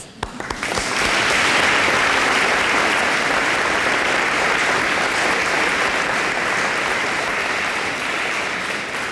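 Sustained audience applause at a PTA award ceremony honoring 100 years of the PTA, starting abruptly and filling the room evenly for several seconds as a dense, steady clatter of many hands.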